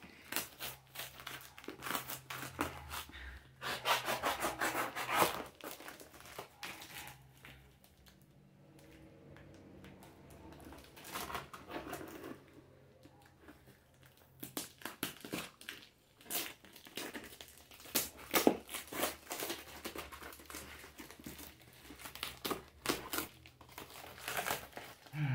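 A box cutter slices through heavy tape on a package holding Nintendo Game & Watch games, followed by bursts of loud crinkling and crumpling wrapping with quiet pauses between, close and without talk.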